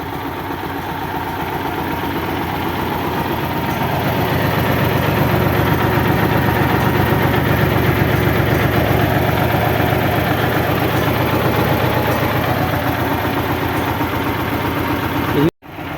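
A T-30 tractor with a three-cylinder D130 diesel engine idles close by in a loud, steady, low throb that swells slightly and then holds before cutting off abruptly near the end.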